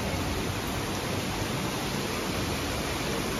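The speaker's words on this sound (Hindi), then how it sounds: "तो इधर आप लोग देख सकते हैं बारिश खूब झमाझम हो रही है।" Heavy evening rain pours down in Delhi, a dense, loud, unbroken hiss of downpour throughout with no voices.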